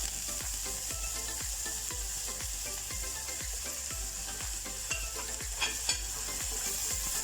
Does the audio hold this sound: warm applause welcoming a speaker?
no